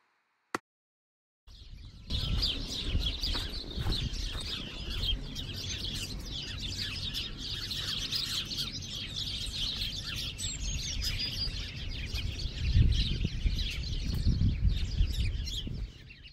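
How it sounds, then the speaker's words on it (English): Birds chirp and call continuously beside a canal towpath on the Oxford Canal at Napton on the Hill, a steady outdoor chorus after a brief silent start, with low rumbling background noise swelling near the end. "so I'll let you listen to the bird chirping now"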